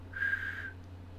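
A person attempts a whistle indoors, producing a thin, wavering high tone that lasts about half a second over a steady low hum, fairly quiet.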